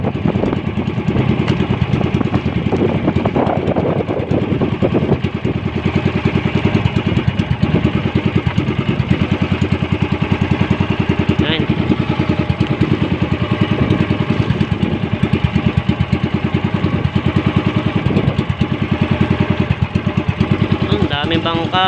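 Engines of many fishing boats at sea drone together in a loud, continuous mechanical rumble, with voices talking over the steady noise.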